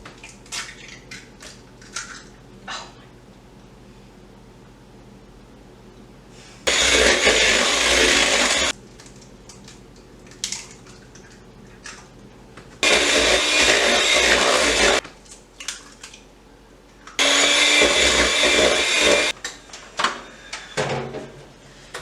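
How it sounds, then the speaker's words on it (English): Electric mixer beating eggs into sweet potato cake batter, running in three loud bursts of a few seconds each, with quieter gaps of bowl clatter between them. "make sure that every time you add an egg, you beat the batter just so that it's all getting evenly incorporated"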